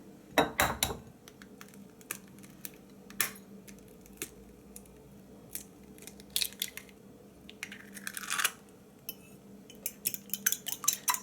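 A fork beating an egg in a bowl: irregular clinks and taps of metal on the dish, some in quick clusters, close and fairly quiet, with no talking.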